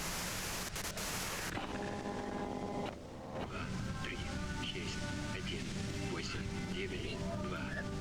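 Radio white noise static from the video game Disco Elysium, a steady hiss that drops briefly and then continues under faint tonal sounds.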